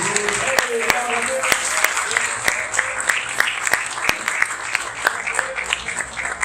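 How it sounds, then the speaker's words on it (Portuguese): A church congregation applauds together in steady, moderately loud rhythmic clapping that carries on throughout, with a voice speaking over it. "Será que você pode aplaudir o nome do Senhor Jesus?"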